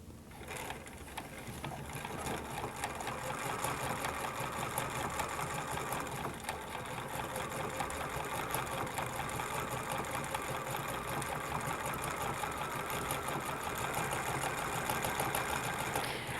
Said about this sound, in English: let's stitch this on with an elastic overlock type of stitch